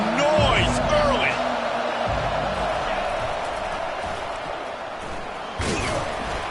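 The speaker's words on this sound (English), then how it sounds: "This crowd bringing the energy and noise early." Crowd noise fills a college basketball arena during a Georgia versus Purdue game, a steady roar with sharp slams and thuds from play, while a commentator talks over it throughout.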